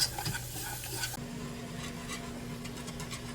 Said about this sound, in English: we're gonna add the flour and we're gonna mix constantly. Okay, so we whisk for about a minute